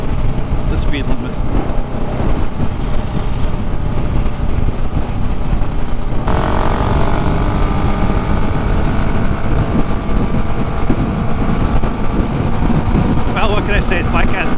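A 2020 KTM 690 Enduro R motorcycle rides along a road, its engine droning loud and close under heavy wind rush, with the pitch shifting as it accelerates partway through.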